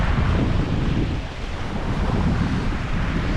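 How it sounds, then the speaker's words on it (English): Strong, steady wind roars across the microphone by the sea at Hill Inlet in the Whitsunday Islands. It is loud and continuous, with a faint wash of surf underneath and no talking. "It's pretty windy today too."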